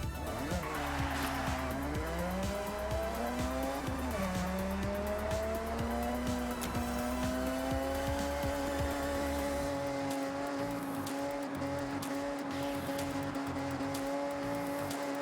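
In the Forza Horizon 6 racing game, a car engine winds up toward 9,000 RPM. The tone climbs in pitch, dips, then rises again and holds a loud, high, sustained wail, with hints of tire squeal.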